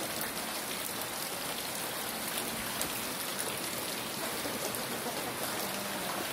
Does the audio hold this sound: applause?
no